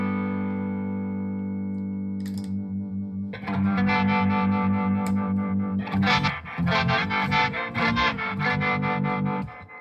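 Electric guitar run through a harmonic tremolo pedal, Strymon Flint or White Whale: a sustained chord pulses with a steady wavering throb, then a louder strummed passage with rhythmic tremolo chops, close and alone.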